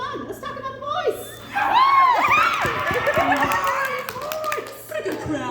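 An audience at a convention panel for Twisted Wonderland bursts into loud cheering, shrieks and laughter, swelling midway and then settling, with voices talking over and between the crowd noise.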